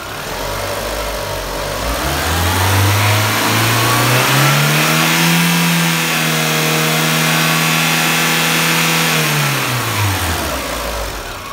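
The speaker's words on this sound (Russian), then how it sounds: "Работа двигателя 5000 оборотов." Renault Clio II 1.4-litre petrol engine revved up to about 5000 rpm, its pitch climbing smoothly, holding a loud sustained whine, then falling back toward idle. Nobody speaks over it.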